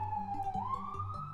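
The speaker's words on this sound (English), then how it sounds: "apologies for any really loud sirens that you hear outside" Loud emergency vehicle siren wailing outside, a steady sweeping tone rising and falling across the whole moment, close and prominent with no talk over it.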